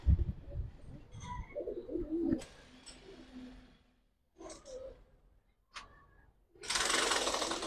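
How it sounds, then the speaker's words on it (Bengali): Giribaz and colored fancy pigeons, including a doll pigeon, in a loft collection give soft intermittent coos with rustling and clatter between them, ending in a loud burst of broadband noise. "পুতুল কবুতর।"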